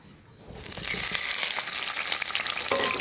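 Small tomatoes drop into hot oil on a stovetop, and after a quiet start a loud, bright frying sizzle bursts up and holds steady, with a few scraping sounds and no voices.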